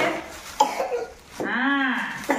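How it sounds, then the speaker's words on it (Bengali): A child gives a few forced coughs on request, short bursts close to the mic with a breathy, voiced rasp and a longer throaty cough in the middle, heard alone without talk. "কাশি দাও, একটু কাশি দিয়ে দাও ভালো করে।"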